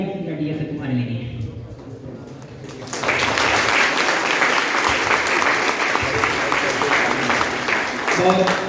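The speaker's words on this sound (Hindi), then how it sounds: "150 लोग ताली बजा रहे हैं" Audience of about 150 people at a live session bursts into loud, sustained applause, following a stretch of speech and continuing steadily until the end.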